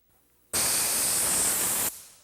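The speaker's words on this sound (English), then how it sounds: "Sometimes I blow a little compressed air right there at the joint between the two glue lines" A blast of compressed air is blown at a veneer glue joint on a radiused edge during vacuum-press work: a loud, steady hiss that starts abruptly, holds for over a second, then cuts off, heard alone.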